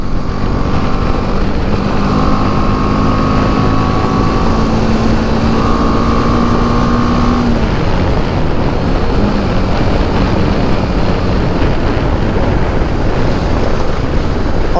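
A Royal Enfield Himalayan adventure motorcycle leans through corners at speed, its engine drone rising and falling under a heavy, continuous roar of wind buffeting the microphone.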